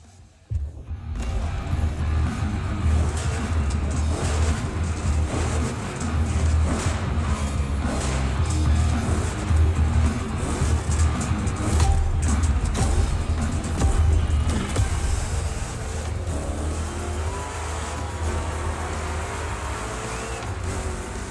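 Two Chevrolet big-block engines roar in The Crew Motorfest, a loud, steady engine drone that rises and falls with revving, continuing the whole time over a rough, twisty course.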